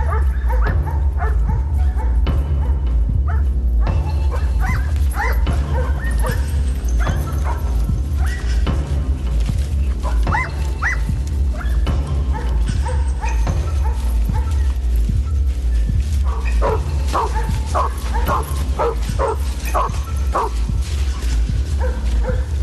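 Search dogs bark and yip repeatedly while following a trail through a forest in a suspense film, with sharp bursts scattered over a constant low rumble.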